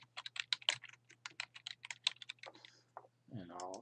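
Rapid keyboard typing on a computer while entering athlete details for a 10K race into a timing site, crisp irregular keystrokes close by, fading out before a brief burst of voice at the end.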